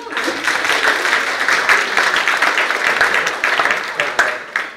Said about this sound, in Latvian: Aplausus.